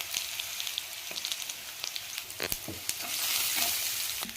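Onion and asafoetida sizzle in hot oil with mustard seeds and cumin, stirred with a spoon that scrapes and taps the pan now and then. A steady frying hiss swells louder toward the end, with no voices.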